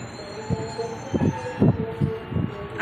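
A Bogor commuter train pulls into Tebet station, with a steady rumble and a run of rhythmic low thumps from wheels passing over rail joints, and a high squeal near the end.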